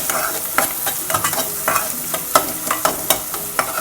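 Ginger-garlic masala paste sautéing in a pan for paneer butter masala, with a steady frying sizzle broken by repeated scraping stirs of a spoon, close and fairly loud, no talking.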